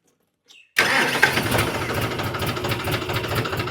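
A cold tractor engine cranks on its self-starter and roars to life after a moment of quiet, then settles into a loud, steady knocking idle close by.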